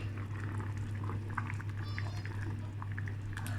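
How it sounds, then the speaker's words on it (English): Arrowroot mixed into evaporated cream is poured into a bubbling sauce of chicken, mushroom and carrot, a soft steady liquid pour under the simmering hiss of the pan, close and continuous with no talking. "Just pouring it in."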